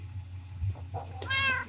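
A cat in Minecraft gives a single clear meow, close and moderately loud, after some faint soft background noise.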